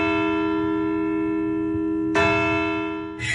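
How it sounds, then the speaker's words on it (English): Church bells ring in long sustained tones with rich layered overtones, a fresh loud strike near the end blooming over the fading hum of earlier peals. "And for the church bells here,"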